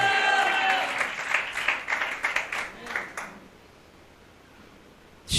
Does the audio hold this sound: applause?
yes